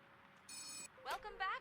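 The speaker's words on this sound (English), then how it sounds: "Oh, the office phone is ringing." An office phone rings in a video game with a brief electronic trill, followed by a person's voice speaking quietly.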